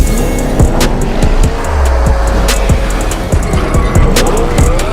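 A brand-new Porsche Panamera Turbo S, rated at 620 horsepower, drives with a loud, continuous engine roar. Short tire squeals and sharp bursts cut in over the steady drone.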